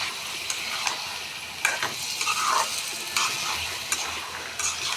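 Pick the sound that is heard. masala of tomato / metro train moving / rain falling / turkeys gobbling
masala of tomato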